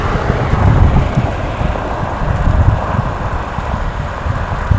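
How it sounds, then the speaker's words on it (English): Strong wind buffets the microphone during a countryside bike ride, a loud, rumbling low roar that swells and gusts in waves throughout, with no speech. "It's very windy."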